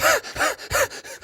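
A person imitates being out of breath after running, with four or five quick, rhythmic panting gasps close to the microphone.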